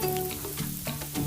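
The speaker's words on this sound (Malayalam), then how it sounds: "ഒരു പാന് ചൂടായി തുടങ്ങിയാൽ നമുക്കതിലേക്ക് ഒരു 1-2 തവി മാവ് ഒഴിച്ചു കൊടുത്ത് ചെറുതായിട്ടൊന്ന് സ്പ്രെഡ് ചെയ്ത് കൊടുക്കാം." Batter sizzles in a hot pan while being spread, a soft steady hiss with a few light scraping strokes, close and fairly quiet.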